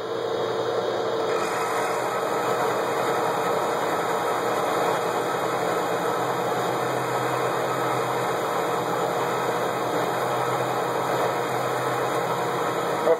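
A half-inch high-speed steel coated roughing end mill cuts steel while spring perches are made for a trailer axle repair, giving a steady, dense machining drone with a gritty rasp that runs unbroken throughout, with no talking.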